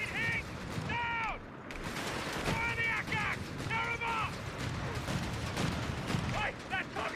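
Rapid anti-aircraft gunfire in Company of Heroes 3, dense continuous bursts under other battle noise, with several short warbling in-game voice calls cutting through, and a player talking over it.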